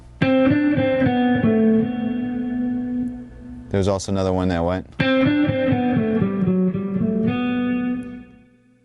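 A distorted electric guitar picks quick repeated note runs, pausing briefly while someone speaks, then resuming the fast picking pattern.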